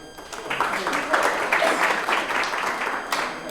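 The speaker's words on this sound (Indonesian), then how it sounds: "Tepuk tangan dulu." A classroom group gives a short burst of applause, a steady patter of clapping lasting a few seconds at moderate loudness, with voices mixed in.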